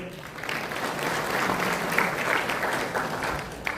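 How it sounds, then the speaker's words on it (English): Applause rises from a cyber security workshop audience, many hands clapping in a steady, moderately distant wash that swells slightly and then tapers near the end. "Let's have a huge round of applause for him"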